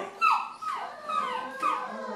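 A 4-month-old Great Dane puppy whimpers in several high, wavering whines that slide downward, close and fairly soft, with short pauses between cries, at a vet.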